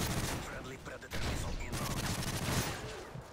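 Dense, continuous gunfire in a Call of Duty Team Deathmatch match, overlapping shots filling the whole stretch, loud and close.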